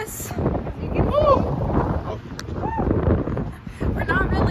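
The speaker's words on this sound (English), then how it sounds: "It's really windy" Steady, loud wind buffeting the microphone in the city of Dallas, a low roar that runs throughout, with brief voices heard faintly beneath it.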